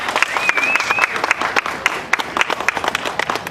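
Audience applause for a volunteer at a Halloween Time magic show at Big Thunder Ranch, Disneyland: a crowd claps in scattered, uneven bursts with a few louder slaps and some voices mixed in.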